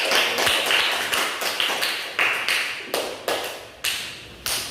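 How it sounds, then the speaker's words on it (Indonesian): Classroom clapping for a student group after their report, a series of distinct bursts of hand claps from a small number of people, fairly close and repeated at irregular intervals. "Tepuk tangan untuk mereka dulu, Pak."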